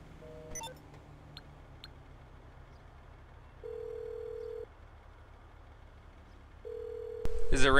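Repeated electronic phone ring tones in Grand Theft Auto V, steady flat pulses separated by pauses, fairly clear over a quiet low hum, with a brief burst of talk at the end.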